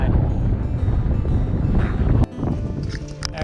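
Strong gusts buffet a cyclist's microphone while riding on a road along a coastal route, giving a loud, rumbling low roar. The buffeting drops off abruptly partway through, then returns more lightly.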